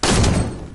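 A burst of gunfire in Fortnite Save the World, a dense rattle of rapid shots lasting under a second, loud and close with no talk over it.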